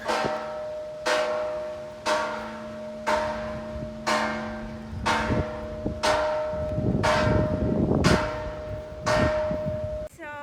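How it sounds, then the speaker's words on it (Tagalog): Paoay Church's bell strikes about nine times at a steady rhythm for the 3:30 chime, each ringing tone lingering, with faint voices and outdoor noise underneath. "that's 3:30 chime or bell of the Paoay Church."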